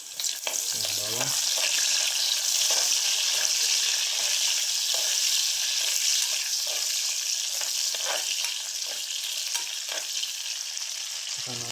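Garlic fries in a pan with a steady, dense sizzle throughout, broken by occasional stirring scrapes and clinks from the utensil.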